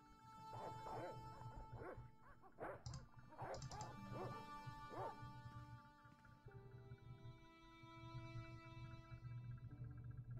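Dogs in the video game Broken Sword Remastered bark in a run of several sharp, fairly close barks over a steady tonal game soundscape, then fall quiet as the ambience continues, with no talk.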